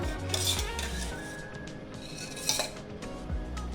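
A metal kadai pan is set down on a kitchen stove, making a few quiet, close clanks and a light metallic clatter with no talking.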